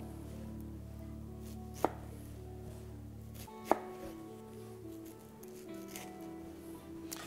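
A knife chops through food on a board beside the core, two sharp distinct cuts standing out over a low steady hum of the room, with no voices.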